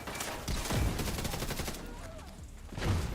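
Rapid bursts of explosions and crackling blasts from an electric build in The Division 2 video game, dense and overlapping throughout, with heavier hits near the start and the end.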